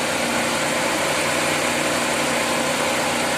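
A Chevrolet Blazer engine idles with its AC fan and radiator fan both running, a loud, steady mechanical drone and fan whir, close and constant throughout.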